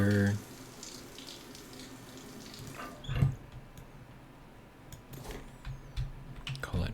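Shower water runs in the space survival game Stationeers, a soft continuous spray with faint clicks and small bumps, after a brief louder sound at the start.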